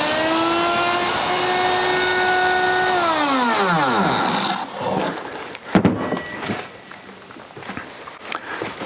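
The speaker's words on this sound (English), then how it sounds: "Of course, unlike those cordless routers, this one I got to plug in." A corded router cuts a short groove into wood while making mitered cabinet doors with beaded detail. A loud steady whine winds down for about four seconds after the cut, followed by scattered knocks and handling noises.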